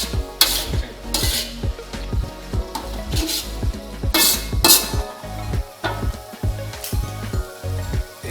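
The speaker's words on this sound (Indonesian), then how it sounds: "Kuminya juga kita campurkan. Lalu kita aduk." A spoon stirs chicken with spices and cumin in a sizzling pan, making rhythmic scrapes and clinks against the metal over a constant frying hiss, close and clear.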